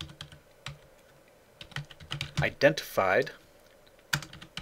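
Password typed on a computer keyboard, a scattered run of light key clicks under a man's speech, loudest in the bursts between his words.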